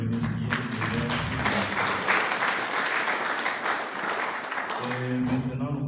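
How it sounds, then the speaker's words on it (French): A conference audience breaks into sustained applause, dense steady clapping filling the room at full volume, easing slightly midway before swelling again, with a voice briefly audible at the edges. "Sous vos applaudissements"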